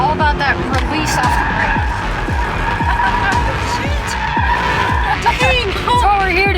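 Car tires skidding and squealing on the skid pad at Thermal Club race track, a loud continuous screech with rapid repeated pulsing chirps over engine drone, close-up from onboard.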